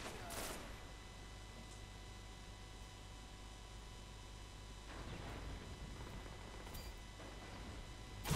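Gunfire in a multiplayer shooter match, heard as a couple of sharp bursts around the start and the middle, over a steady electrical hum and hiss.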